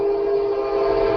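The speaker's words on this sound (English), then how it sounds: "We got a train here in Ithaca too. I love the sound of the thing" Horn of a Kansas City Southern Railroad train passing in Ithaca, a steady sustained blare that holds loud and unbroken throughout, with a rumbling low undertone and no talk over it.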